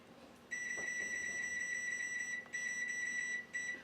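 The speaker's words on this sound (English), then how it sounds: "So we're gonna set our timer." Kitchen timer being set for peanut butter cookies baking in the oven, giving three steady electronic beep tones in a row, each held for a second or two with short gaps, clear and close with no talking.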